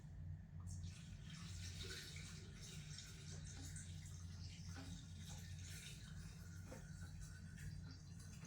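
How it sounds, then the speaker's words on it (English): Water pours steadily into a milk-making machine for homemade hazelnut milk, a continuous splashing wash that runs loud and unbroken from start to finish, with a low hum underneath. "And then I'm gonna add 4 cups of water in the milk."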